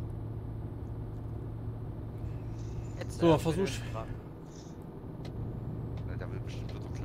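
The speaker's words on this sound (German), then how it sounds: "Man hört doch den LKW" Steady low truck engine drone from a lorry in Euro Truck Simulator 2, running continuously throughout under a brief burst of speech in the middle.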